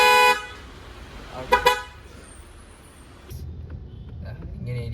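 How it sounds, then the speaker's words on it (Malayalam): Two short, loud honks from a newly fitted horn on a Tata Altroz hatchback, the second coming about a second after the first, followed by quieter idling and a voice speaking. "ഇപ്പോൾ ഇത് വച്ച് കഴിഞ്ഞുള്ള ഹോൺ അടിച്ചോ."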